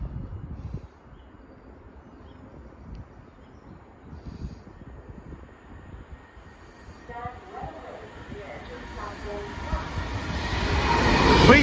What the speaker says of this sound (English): Joe, passing through now is an Avanti West Coast on divert from Blackpool North to Milton Keynes Central